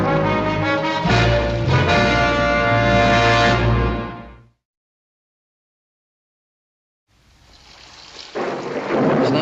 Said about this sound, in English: Not much of a rain, but it sure came up fast.